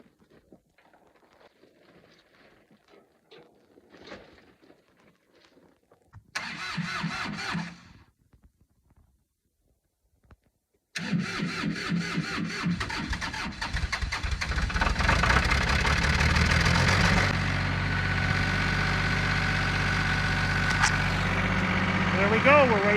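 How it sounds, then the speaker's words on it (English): A tractor engine cranks and starts after quiet handling noises and a short burst of activity, then settles into a loud, steady idle with a rising rough rumble. "Got to get the tractor uncovered and started up"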